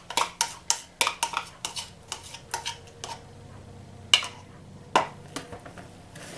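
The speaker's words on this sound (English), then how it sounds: "we stir in our buttermilk." Buttermilk and red food coloring are stirred into batter in a bowl. A utensil scrapes and clinks against the bowl in quick, repeated taps, close and fairly quiet, with a few sharper knocks.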